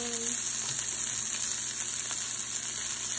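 Onion sizzling as it fries in a pan, a steady bright hiss held at an even level throughout with faint stirring underneath.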